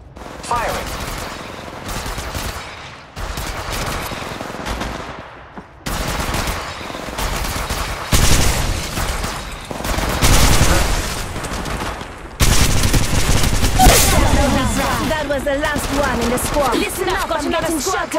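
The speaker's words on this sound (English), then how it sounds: "The enemies are shooting at the squad attacking." Bursts of automatic gunfire in the Apex Legends Mobile video game, a firefight with repeated volleys and sharp shots that come and go in clusters, loud and busy with other game effects.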